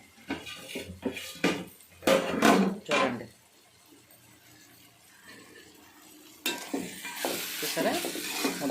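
Ridge gourd keema curry being stirred in a pan, a spoon scraping and clinking against the metal in bursts with a soft sizzle beneath, close and fairly quiet, then steadier stirring toward the end.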